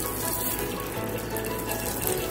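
Coconut oil poured into a heated frying pan makes a continuous soft pouring and sizzling hiss at close range, steady for a couple of seconds with no talking.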